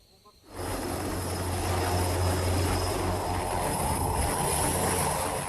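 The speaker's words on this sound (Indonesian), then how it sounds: "Helikopter yang dinaiki Presiden Prabowo Subianto tiba di halaman Istana Garuda, Ibu Kota Nusantara, Senin malam." The presidential helicopter arrives at night at the Garuda Palace grounds in Nusantara, its engine and rotor building into a loud, steady roar with deep low thrum and hiss that holds without letup.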